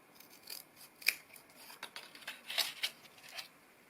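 Scissors snip through a handmade jewelry gift box holder in a few close, crisp cuts with light rustling between them, quiet and without any talking.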